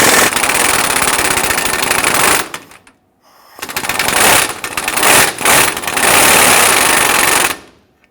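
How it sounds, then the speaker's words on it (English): An impact gun loosening a 19mm nut on the rear shock of a Nissan Frontier hammers loudly and up close in two long bursts. A brief pause separates them, and a few stuttering pulses come before the second run. "We're going to use our impact gun and our wrench, loosen and remove this."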